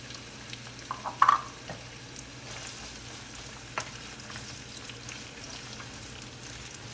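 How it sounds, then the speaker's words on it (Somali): Chopped onions frying in a little oil in a pan for an egg curry, giving a quiet, steady low sizzle with a few brief louder stirring clatters near the start. "basasheena aan ku shiilaya"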